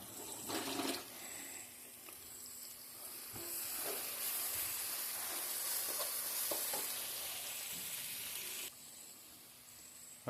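Ginger garlic paste frying in a pan for fish majboos, a steady close sizzle with occasional stirring scrapes and clinks, no talking.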